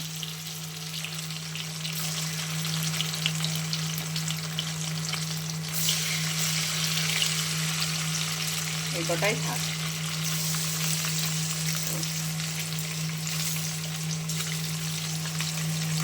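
Paneer pieces frying a few at a time in a wok, a steady soft sizzle running throughout with brief stirring clatter near the middle, a constant low hum underneath and someone speaking briefly.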